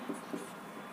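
Pen writing on paper while working a class 10 geometry problem on circles and a rectangle, two short scratchy strokes over a steady close hiss, with no talking.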